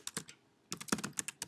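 Quick clusters of keystrokes on a computer keyboard, close and crisp, with a short pause between two bursts of typing.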